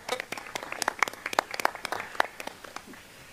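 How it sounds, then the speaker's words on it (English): A small group at a school board meeting gives a brief, scattered round of applause, with distinct claps close by in an irregular rhythm that thins out toward the end. "you get a round of applause too"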